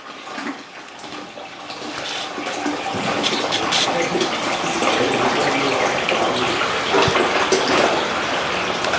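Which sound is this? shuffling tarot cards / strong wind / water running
water running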